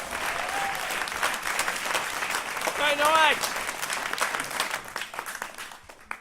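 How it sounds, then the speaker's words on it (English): Audience applause at a live poetry competition event, dense clapping filling the clip with a brief cheer and a voice speaking over it before it thins toward the end. "I want a huge round of applause for this man."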